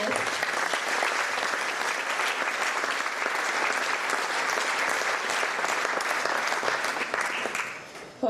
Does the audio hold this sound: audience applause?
yes